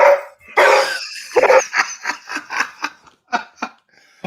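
A dog barks in a quick series of sharp, close barks and yips, loud and alone without talk, the barks coming at an irregular, excited rhythm.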